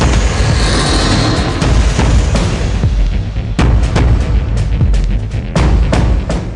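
An SAS patrol fans out into formation and lays down heavy gunfire, a loud continuous barrage of overlapping shots with sharper distinct cracks standing out in the later seconds.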